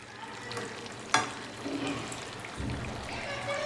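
Methi muthiya dumplings drop into a pan of simmering undhiyu with a sharp clack, then a spoon stirs through the soft, wet sizzle in quiet scraping strokes close by.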